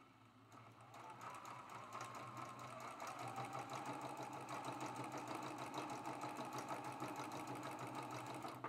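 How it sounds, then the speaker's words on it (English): A sewing machine stitches pieces of a Prairie Flower quilt block along a marked line, running in a fast, even, continuous rhythmic whir that starts softly and settles into a steady, close, moderately quiet hum. "I'm going to sew directly on the line."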